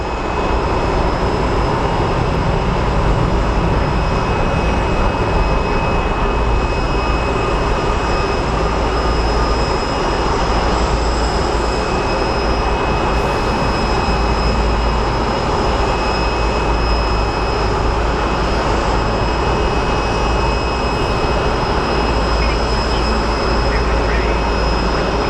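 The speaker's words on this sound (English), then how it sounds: "Crj Landing." A CRJ regional jet landing at Sky Harbor Airport produces a loud, steady roar of jet engines with a sustained high whine throughout, heard from a fixed outdoor vantage point.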